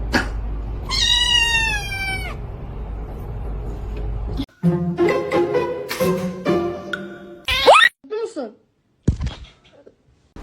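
A kitten meows loudly and repeatedly close by, giving several drawn-out cries with short pauses between them, and a voice speaks in the background partway through.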